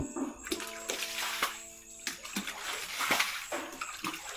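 Water splashing and sloshing as household items are washed by hand late at night after a flood, steady close-up rinsing with scattered clatters and drips.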